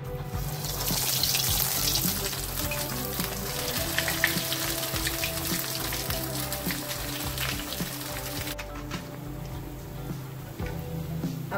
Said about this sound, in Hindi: पैन में मैंने ऑयल डाल दिया है और ऑयल हमारा गर्म है। अब हम इसमें फ्राई करते हैं।